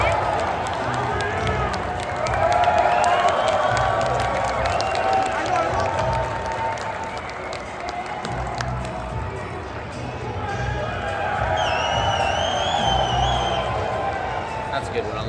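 A large crowd at Pierre Poilievre's rally in Hamilton cheers and applauds in a sustained roar that swells and eases, with voices and shouts mixed through the noise.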